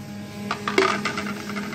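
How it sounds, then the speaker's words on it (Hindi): Coarsely crushed jaggery tipped into a metal cooking pot for jaggery rice, landing as a few short clattering knocks and scrapes over about a second, close and fairly clear with no talking. "देचकी में मैं ये गुड़ डाल दूँगी"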